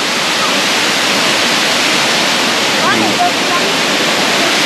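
Engkanto Falls in Libmanan, Camarines Sur roars with a loud, constant broadband rush of falling water, steady and close for the whole stretch, with no clear talking.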